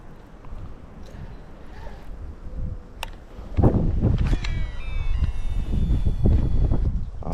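Strong wind gusts buffet the microphone on a boat out on shallow water while bass fishing, a low rumbling roar that surges louder halfway through, with faint bird-like chirps above.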